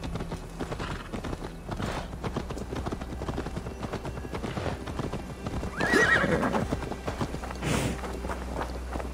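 A horse's hooves clip-clop steadily at moderate distance in the video game Assassin's Creed Valhalla, followed by a loud whinny, with a low background hum.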